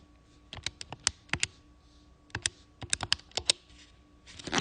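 Calculator keys pressed one after another in quick, irregular clicks, close and clear, entering a division of 91 by tan 65, with short pauses between bursts and no talking.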